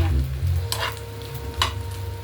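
Fish roe frying in oil until crisp, a steady loud sizzle with two bursts of stirring or scraping in the pan, close by and with no talk.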